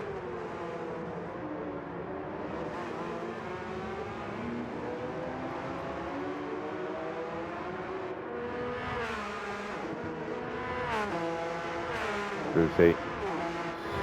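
Porsche Cup race cars run on a circuit in a pro/am race, their engines droning at steady high revs with rising and falling gear sweeps and a couple of short sharp knocks near the end, all under continuous commentary.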